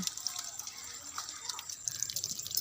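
Water is poured by hand onto the base of a sapodilla tree, giving a light, steady splashing and trickle with small drip-like spatters, fairly close, while a voice talks faintly alongside.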